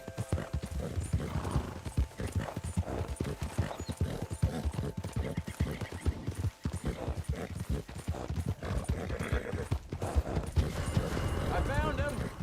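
In Red Dead Redemption II, a horse's hooves clip-clop in a steady, dense rhythm on a road, with an occasional whinny and voices in the game's dense background.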